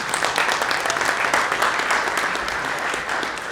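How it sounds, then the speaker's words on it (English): Audience applause at a sales conference, a dense burst of clapping from a crowd, loud and close, lasting a few seconds at an even level. "Can I get an applause for that?"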